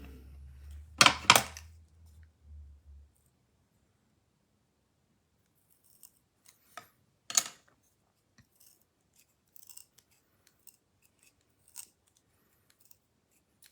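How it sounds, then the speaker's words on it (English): Cheap, poor-quality craft scissors snip loudly twice near the start, followed by quieter scattered clicks and light handling taps from close by. "And Sandy, now you know why these scissors never work"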